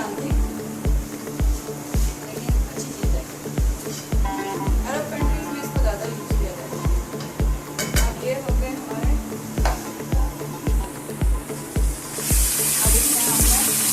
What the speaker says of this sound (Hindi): चिकन ऐड कर दिया। चिकन को तब तक फ्राई करना है